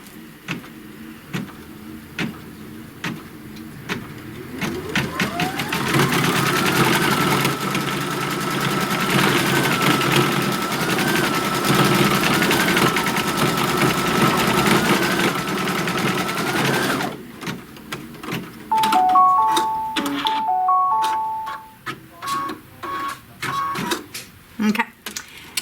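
A sewing machine stitches down a tack, giving a steady mechanical whirring for about twelve seconds. Quieter ticks and clicks come before and after, and people talk around it.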